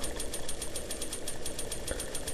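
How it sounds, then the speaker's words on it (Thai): Chainsaw running in the horror video game Mad Father, a rapid, even, rattling buzz that pulses steadily and stays loud and close throughout. "เปิดเลื่อยแล้ววะ"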